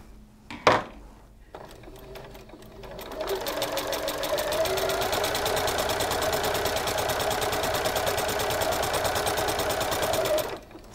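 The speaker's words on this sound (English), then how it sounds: "So I am going to start sewing" A sewing machine chain-piecing scrap fabric for a table topper runs in a steady, fast whirring stitch for about seven seconds after a brief knock and quiet pause, then stops abruptly.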